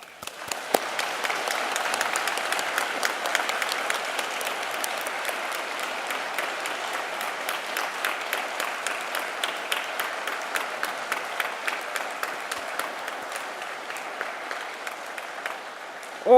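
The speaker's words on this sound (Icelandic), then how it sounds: "Við skulum gefa þessum föngulega hóp gott klapp" An audience claps for graduates at a ceremony in a concert hall, a sustained wave of many hands that holds steady for over fifteen seconds at moderate distance.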